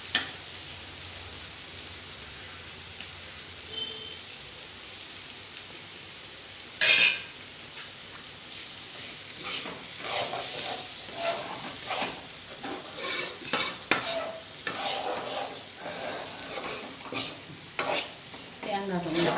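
Carrot cooking in a pan with ground coconut and cumin, stirred with a spoon: soft, steady sizzling broken by a sharp clink and then repeated scraping strokes that grow busier toward the end.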